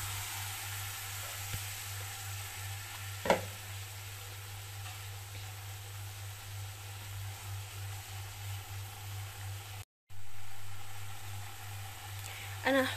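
Potato and vegetable pieces frying with a small spoon of garlic in a pan give a steady, soft sizzle that holds evenly throughout, faint and close, with a brief pop partway through.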